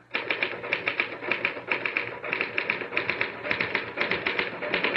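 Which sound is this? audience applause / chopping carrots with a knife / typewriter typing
typewriter typing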